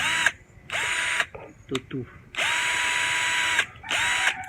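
A Titanium 20-volt cordless electric drill spins up in several bursts of steady high whine, separated by short pauses and small clicks, close to the microphone with a brief spoken word in between.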